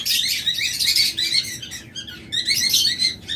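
Blue opaline budgerigars chirp and twitter continuously up close, with rapid, overlapping bright calls in uneven bursts and brief pauses, no voices.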